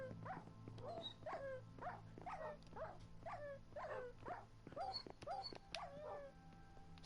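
Dogs in the video game Minecraft give a string of about ten short, quiet yips and whiny barks in a steady series over a low background hum.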